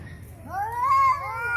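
A cat meows once, a clear rising-and-falling cry sounding close and fairly loud over low background rumble.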